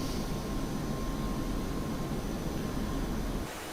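Jet engine roaring steadily during a takeoff run in the DCS flight simulator, a loud continuous broadband rush that holds level before dropping slightly near the end.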